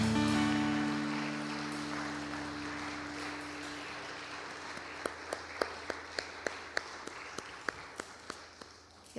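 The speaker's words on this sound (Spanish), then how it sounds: "Dale un fuerte aplauso al Señor." A church congregation applauds. The dense clapping starts loud, then thins and fades as it goes on, and the last sparse individual claps ring out near the end over a lingering organ-like tone.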